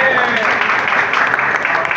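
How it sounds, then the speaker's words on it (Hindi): An audience applauds at a prize distribution for a Mr Pakistan Day bodybuilding event, a dense, steady patter of clapping close by, with a voice speaking over it. "भरपूर तालियां होनी चाहिए जी शफीक साहब के लिए।"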